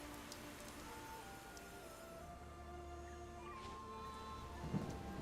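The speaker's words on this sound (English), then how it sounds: "It's raining." Light drizzle falling in the video game AFK Journey, a steady soft patter running throughout under faint game music tones, with a brief louder splash near the end.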